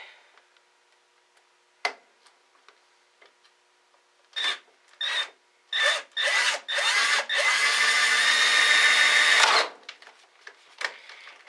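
A power drill with a one-inch hole bit bores holes in several short whirring bursts, then one long sustained run of about five seconds. The drill is close by, with scattered clicks and light handling noises before and after.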